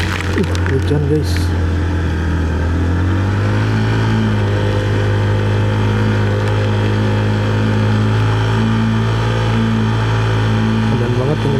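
Motorcycle climbing the steep Gunung Lio road in heavy rain: a steady laboring engine drone with pitch rising and settling, close and loud, under constant rain hiss, with a voice speaking over it.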